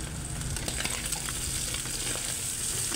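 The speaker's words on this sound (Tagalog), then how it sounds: "Yung nilaga nating pork guys, malambot na ay igisa na natin." Boiled pork cubes sauté in a hot pan until brown while making kare-kare. A steady, dense sizzle with faint crackles runs throughout, close and alone.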